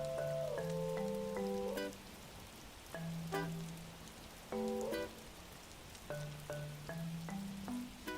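Steady rain hisses in the Animal Crossing New Horizons video game, a soft continuous patter under gentle plucked background music.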